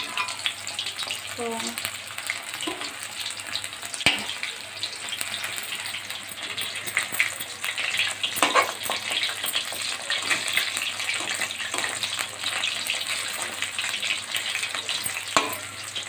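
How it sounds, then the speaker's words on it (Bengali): Chicken pakora pieces fry in hot oil with a loud, continuous, close-up bubbling sizzle and occasional sharper pops, while a voice briefly speaks over it. "এই যে চিকেন ছেড়েছি তেলের মধ্যে, এখন একটু ভাজা ভাজা হচ্ছে"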